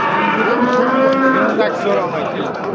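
Six-month-old calves mooing at a livestock market, several loud drawn-out moos overlapping close by throughout with busy market background noise.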